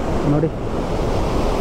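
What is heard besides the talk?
Abbi waterfall water flowing strongly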